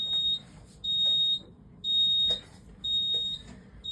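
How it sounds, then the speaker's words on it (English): An ECC-50/100 fire alarm panel sounds a loud, piercing electronic tone in regular pulses, about four half-second beeps separated by short gaps, heard clearly with no voices. "we'll hear the fire alarm panel beep"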